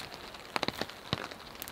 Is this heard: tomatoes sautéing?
no